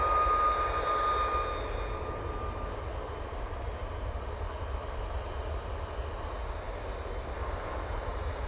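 A Ryanair jet departs Manchester Airport for Krakow with a moderate, steady engine rumble and whine at some distance. A high tone fades in the first seconds, then a constant drone continues.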